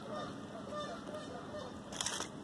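Geese honk at an outdoor summer picnic in Birmingham, a brief cluster of calls rising near the end over steady open-air background noise.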